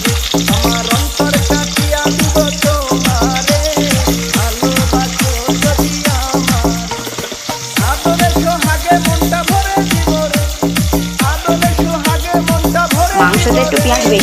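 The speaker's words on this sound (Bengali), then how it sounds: "সেই গরম তেলে আমি এখন দিয়ে দেবো পেঁয়াজগুলো।" Onions frying in hot oil in a pan, a loud continuous sizzle broken by regular scraping stir strokes, with a short dip near the middle before the sizzle resumes.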